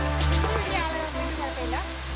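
Pambanal waterfall, a three-tier cascade near Manathoor on the Pala–Thodupuzha road, sends up a steady rushing roar beneath someone speaking close by.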